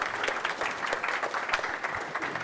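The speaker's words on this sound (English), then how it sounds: "Thank you to the panel. Let's give a round of applause." A conference audience applauds an AI panel discussion, steady overlapping clapping from a crowd that continues evenly for the whole stretch at moderate loudness.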